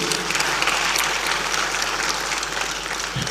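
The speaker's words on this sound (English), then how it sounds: "Let's clap for this young lady." Audience applause at a Kenyan memorial gathering attended by politicians, a dense sustained wash of many hands clapping at steady loudness for the full stretch, with no voices over it.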